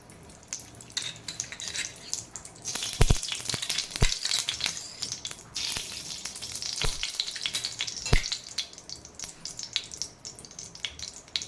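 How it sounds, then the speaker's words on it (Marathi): Ghee heats and sizzles in a pan on a gas stove, a soft continuous crackle and hiss with a few sharp clicks and knocks scattered through it. "गॅसवर मी पॅन गरम करायला ठेवलेला आहे, त्यामध्ये मी तूप टाकून घेते"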